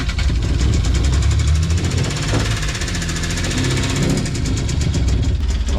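A sailboat's auxiliary engine, which had lost RPM, sputtered and died, runs again after a restart in Baja California, with a steady loud mechanical drone and faint knocking throughout.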